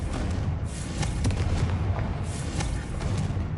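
Confringo fire spell in Hogwarts Legacy: a dense, continuous fiery roar with soft booming thumps, loud and close, with no speech.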